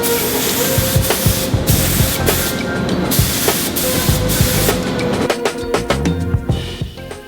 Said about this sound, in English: now I'm only going to spray the primer over those dented areas where the body filler was.